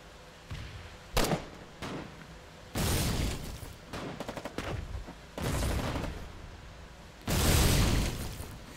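A mortar mounted on a half-track fires shrapnel shells in the war game Foxhole: several loud booming shots and bursts, some in quick rapid clusters, separated by short pauses.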